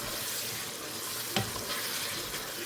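Potatoes fry in a pan with a continuous hiss and sizzle, broken once by a brief clatter as they are stirred, and no voices over it.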